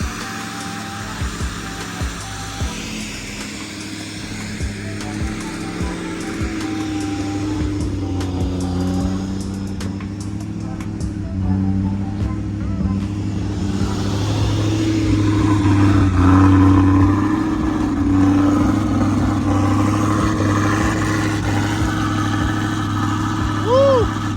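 A car engine runs at a raised, unsteady high idle while the motor shakes after a part install, a loud, close droning hum that swells slightly midway, with people talking over it.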